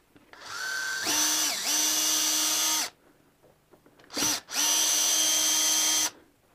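A power screwdriver whirs in two sustained bursts, each winding up and easing off, with a brief spin in between, close and loud, driving a screw during a guitar setup.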